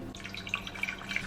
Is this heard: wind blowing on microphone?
no